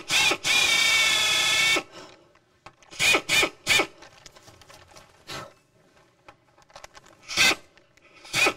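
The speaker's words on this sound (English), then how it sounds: "I'm just gonna drill out the back of the rivet till I hit the old metal" A power drill bores out a rivet, with one long whining burst followed by several short, sharp pulses separated by quiet gaps, close and fairly loud.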